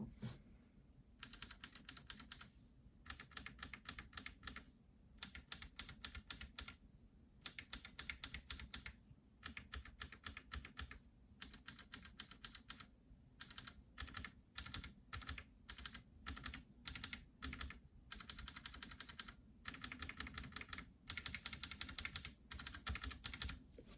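Kailh clicky non-BOX keyboard switches are typed in quick bursts of sharp, crisp clicks separated by short pauses, close up and alone.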